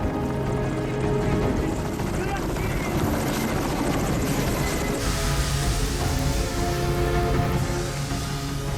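A firefighting helicopter over a forest fire in the Korean DMZ, its rotor thrumming in a continuous close, loud drone for the whole stretch.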